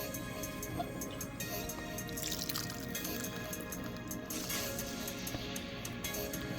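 Liquid poured into a bowl of O'Food seafood instant ramen, a soft steady dribble with scattered drips, fairly quiet throughout without voices.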